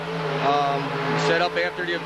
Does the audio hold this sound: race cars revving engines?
yes